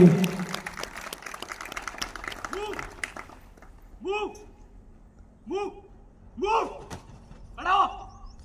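Audience at an NCC cadets' self-defense demonstration claps in a dense burst for about three seconds, then fades as a single voice calls out in short, spaced shouts.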